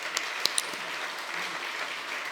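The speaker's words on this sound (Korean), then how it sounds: "수상하신 봉사자들에게 힘찬 격려와 박수 부탁드립니다." Audience applause for award-winning volunteers at a church men's association general assembly service, a steady, fairly soft wash of clapping with a few sharper individual claps standing out near the start.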